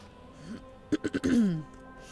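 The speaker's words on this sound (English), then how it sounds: "Sorry, I keep clearing my throat." A person clears their throat in a short burst of three quick rasping pulses followed by a longer voiced rumble, close and fairly quiet against a faint background hum.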